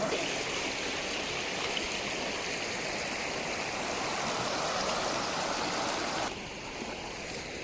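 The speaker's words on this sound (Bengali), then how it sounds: "জলটা কিন্তু একটু স্রোত আছে" A shallow river stream with a light current rushes steadily outdoors, a broad continuous wash of flowing water that drops slightly in level near the end.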